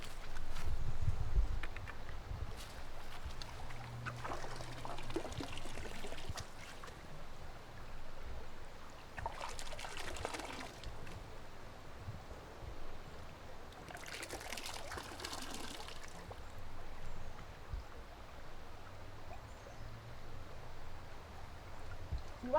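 Water from a field site is poured into lab sample bottles. Several trickling bursts sit under steady outdoor ambience and low rumble, with no talking.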